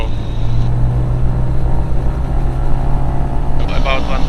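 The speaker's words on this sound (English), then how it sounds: "So we set throttle 1000 to 1800, 900 RPM." A 1996 Diamond DA20-A1 Katana single-engine piston aircraft with a variable-pitch propeller during an engine run-up at higher RPM, a loud steady drone close by with a voice talking over it.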